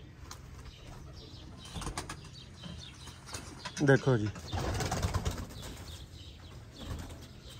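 Sialkoti pigeons flap their wings in short bursts, with a louder flurry near the middle and soft cooing, while someone talks over them in a rooftop loft.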